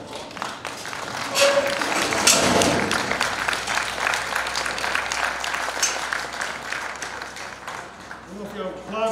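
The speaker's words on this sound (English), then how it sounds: "I don't know if y'all applaud because that went well or because it's over." An audience claps at a cattle-handling talk, a broad patter of applause that swells early and then thins out over several seconds.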